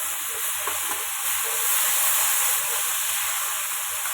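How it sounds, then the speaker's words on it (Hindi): Raw ground onion paste sizzles steadily in hot oil while a bitter gourd stuffing is cooked, a continuous close hiss with faint stirring underneath and no talking. "अब इसमें हम प्याज पीस कर रखे थे उस प्याज को डाल देंगे, क्योंकि ये कच्चा प्याज है, तो पहले हम इसे भून लेते हैं थोड़ी देर"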